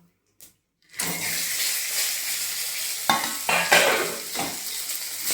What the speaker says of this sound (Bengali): ফোড়নটা ভাজা হয়ে গেছে, এবার আমি দেব মাছের মাথাগুলো।